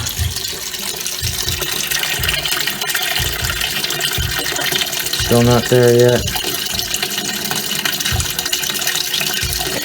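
A Kenmore laundry center washer fills with water for the cold rinse, a steady rushing flow that runs throughout while someone talks nearby.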